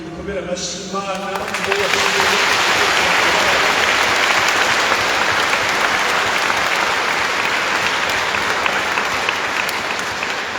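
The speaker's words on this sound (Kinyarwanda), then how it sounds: "kandi dukomere amashyi Imana" A large crowd breaks into loud, sustained applause at a church celebration marking Radio Mariya Burundi's 20th anniversary. A brief voice comes just before the clapping, which then holds dense and even for about nine seconds.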